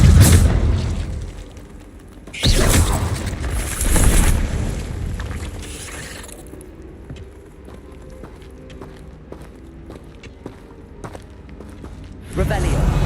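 The Incendio fire spell in Hogwarts Legacy bursts out in roaring whooshes, two close together early on and another near the end, with quieter ambience between them.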